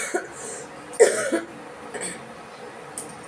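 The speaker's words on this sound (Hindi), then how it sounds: "सॉरी, खांसी आने लगा, सर्दी हो गया" A few short coughs close to the microphone, one sharper burst in the middle and lighter ones around it, with no talking.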